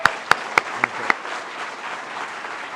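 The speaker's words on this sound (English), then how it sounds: "please join me in giving him a gigantic round of applause" A lecture audience at a university's distinguished lecture series claps for the speaker, a few loud distinct claps up front followed by a softer, diffuse patter of applause that trails off.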